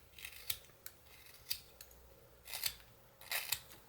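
A carving knife trims the top of a small wood blank while whittling an owl, giving a handful of short, dry scraping cuts at irregular intervals, close and fairly quiet, with no talking.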